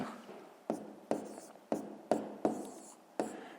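Pen or chalk writing out a fifth-grade math solution, a series of about six crisp strokes and taps in an uneven rhythm, near and quiet, without speech.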